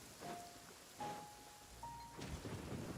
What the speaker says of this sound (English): Marching in the rain conceals the sound of our arrival